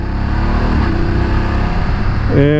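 A 2019 BMW F750GS motorcycle with a fly-by-wire electronic throttle runs at a steady, close idle, then its engine revs briefly and sharply near the end, with no voices.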